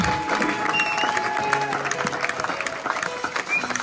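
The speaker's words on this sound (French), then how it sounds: "Est-ce que nous pouvons acclamer?" A church congregation applauds together, a dense, close clapping that stays steady for a few seconds and is mixed with faint crowd voices.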